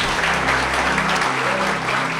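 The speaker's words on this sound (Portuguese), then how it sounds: "Vamos aplaudir" An audience at a Christian conference claps together, a loud, dense and steady burst of applause filling the room with no voices breaking through.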